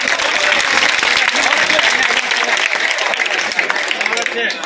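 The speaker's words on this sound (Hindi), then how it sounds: "मुशारे को मुशारे तालियां बजा के मुझे इजाजत दीजिए" Sustained applause from a mushaira audience at an Urdu poetry gathering, dense and steady clapping filling the room for the whole stretch, with crowd murmur mixed in.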